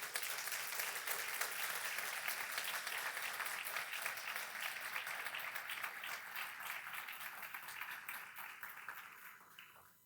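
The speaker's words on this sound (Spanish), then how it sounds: "Denle un aplauso al Señor." A church congregation breaks into applause for the Lord: a full, dense burst of many hands clapping together that runs steadily, then gradually dies away near the close.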